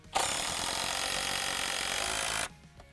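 A power drill drives a SPAX PowerLag screw, a steady loud whine that holds for over two seconds and then cuts off abruptly.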